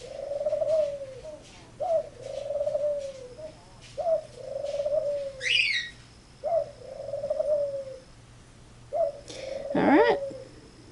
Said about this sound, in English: my doves are doing their thing back there.